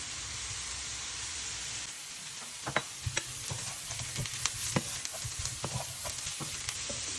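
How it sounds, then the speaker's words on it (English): Potatoes frying in a pan with crushed garlic, a steady close sizzle with scattered crackles and pops as the garlic is added and stirred in. "So at this stage I'm adding crushed garlic."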